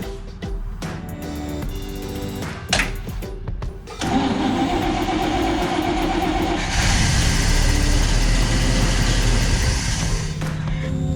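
A car engine with a persistent no-start fault cranks in short rough bursts, then catches and runs loudly and unevenly close by, its pitch rising partway through before easing near the end.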